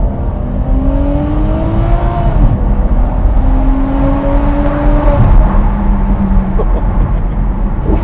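Ferrari 599 GTO engine on a test drive, loud and close, with a rising rev that drops, climbs again and then eases off under constant road roar.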